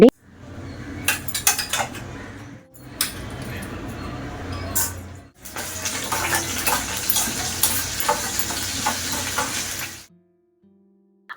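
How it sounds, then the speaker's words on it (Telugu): Fenugreek, mustard seeds, cumin, urad dal and dried red chilies fry in hot oil, giving a steady close sizzle broken by bursts of stirring and utensil clatter, ending abruptly in near silence. "ఆయిల్లోని మెంతులు ఆవాలు జీలకర్ర మినపప్పుతో పాటు ఎండుమిరపకాయలు కూడా వేసి ఫ్రై చేసుకోవాలి"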